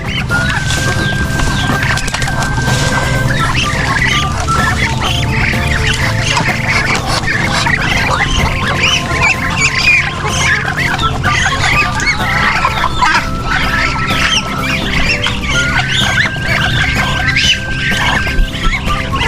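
A flock of chickens on a farm clucks and squawks continuously and loudly, with some higher crowing-like calls, as a steady noisy barnyard chorus with no talking.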